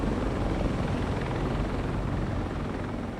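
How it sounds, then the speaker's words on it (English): Steady, loud helicopter rotor and engine roar as the helicopter lifts off, a dense continuous whir that holds throughout and eases slightly toward the end. "the helicopter lifted off"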